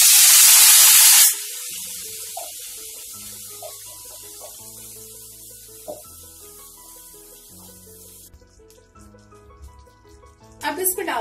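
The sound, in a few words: tomato puree added to hot oil with cumin, sizzling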